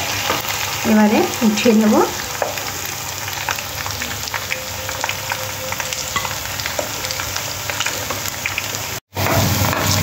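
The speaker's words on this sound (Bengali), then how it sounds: "দেখুন চিকেনগুলো কি সুন্দর লাল লাল করে ফ্রাই করে নিয়েছি।" Kurkura chicken pieces frying in hot oil give a steady, loud sizzle with crackling bubbles throughout, broken by a brief dropout near the end; a voice speaks briefly early on over the frying.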